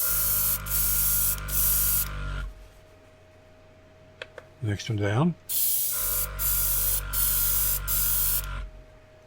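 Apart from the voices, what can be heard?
Gaahleri Ambition Series airbrush spraying with compressor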